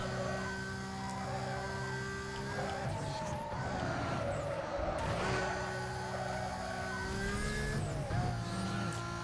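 Race cars in Need for Speed: Most Wanted (2005) drone with steady high engine tones, tyres squealing and skidding through corners, loud and continuous, with no talking.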